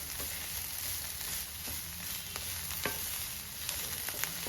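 Beaten egg and beans being stirred in a frying pan for Kerala-style thoran: a soft, fairly quiet sizzle with occasional sharp clicks and scrapes of a spoon against the pan.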